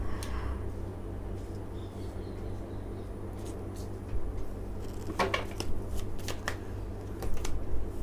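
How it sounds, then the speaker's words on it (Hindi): Tarot cards being shuffled by hand, a soft papery riffling with bursts of crisp flicks toward the end, close and quiet over a low steady room hum, with no talk. "मैं कार्ड शफल कर रही हूँ"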